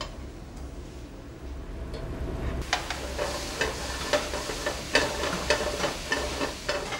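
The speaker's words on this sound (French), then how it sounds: "Les disques sont bien caramélisés, on déglace avec le vinaigre d'Orléans" Caramelized disks sizzle loudly in a pan as Orléans vinegar hits them, a sudden burst of hissing and crackling followed by repeated scraping, stirring clicks close up.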